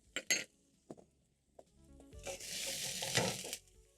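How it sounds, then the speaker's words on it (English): Thinly sliced onion and four garlic cloves drop into a tablespoon of hot cooking oil after a few clinks of a pan, then a loud, steady sizzle rises and holds close by with no talking. "Once the oil is hot, add in 1 medium thinly sliced onion, your garlic, that is 4 cloves"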